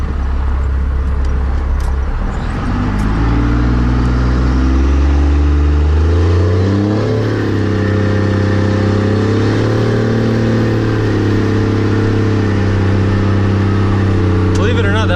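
A diesel truck engine, a Cummins, revs to about 2,000 RPM and holds a steady, rising drone, its pitch climbing and wavering before settling into a loud, sustained roar close by.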